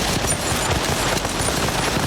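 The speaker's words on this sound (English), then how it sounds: "When the gunfire ceased, Bob was still alive." Sustained gunfire sound effect, a dense, unbroken volley of rapid shots with a rough, noisy texture, loud and close for a brief two seconds.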